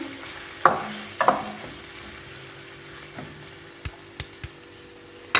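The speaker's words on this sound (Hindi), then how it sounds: "अब मैंने इसमें ये 3 दरमियाने साइज़ की प्याज ली थी, उनको बारीक चॉप कर लिया है, ये डाल दूँगी, मिक्स करूँगी" Finely chopped onions going into hot oil with whole spices, with a couple of sharp scraping stirs followed by a quiet, steady sizzle and a few light taps on the pan, close by and with nobody talking.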